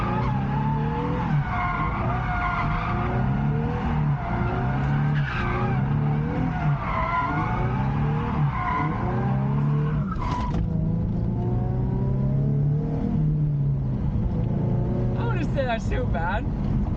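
Nissan 350Z drifting around a street roundabout, a loud engine droning steadily with rising and falling revs, with sharp tire squeals near the end. Speech seems to run under it.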